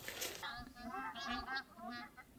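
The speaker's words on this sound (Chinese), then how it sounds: "哦哟，好多鸟飞过来了，挺漂亮。" A flock of geese flying over a lakeside riverbank at dusk in Qinghai, repeated nasal honks overlapping in a loose, irregular chorus, moderately close but quiet.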